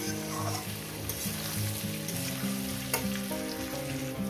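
Food fries in a pan for a light rohu fish curry with plantain and potato, a soft steady sizzle with occasional stirring clicks, background music running throughout.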